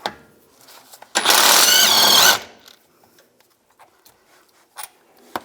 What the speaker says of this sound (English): Now use an 18mm socket, take this bolt off.